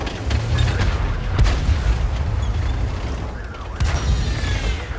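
Tank cannon fire in a World of Tanks–style battle with an IS-2 and M4, heard as heavy continuous low rumbling with a couple of deep booming shots cutting through.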